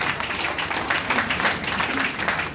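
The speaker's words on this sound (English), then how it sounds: "I want you to give her a powerful, resounding round of applause." Applause for Princess Aderonke at a book launch in Lagos, a dense, steady wash of many hands clapping at moderate level, with faint voices mixed in.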